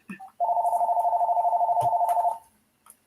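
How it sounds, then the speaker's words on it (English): A telephone rings with a sustained, warbling electronic tone that lasts about two seconds and sounds close and loud. Brief voice fragments come just before and after it. "Sorry, I forgot about that phone."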